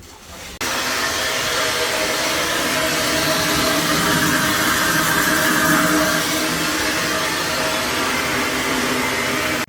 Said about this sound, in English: we're going to keep blasting on that and see if we can get that even cleaner.